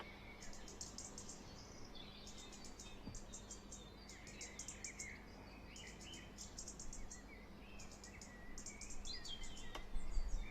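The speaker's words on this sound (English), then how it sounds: "Parakeets, folks, if you're wondering what that squeaky noise is." Distant parakeets call in repeated high, rapid chirping bursts over a faint, steady outdoor background.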